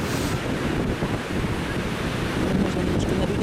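Ocean surf and wind at Cocoa Beach, a steady broadband wash of breaking waves with wind buffeting the microphone throughout, no talk.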